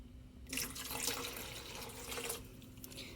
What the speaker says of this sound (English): When your mixture comes to a simmer, you want to add 2 cups of vegetable stock